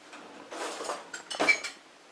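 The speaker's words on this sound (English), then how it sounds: "And now I'm just going to stir that sugar in until it dissolves." A spoon clinks and scrapes inside a pot while stirring sugar into bee tea, a few light metallic knocks over about two seconds, close and fairly quiet with no talk.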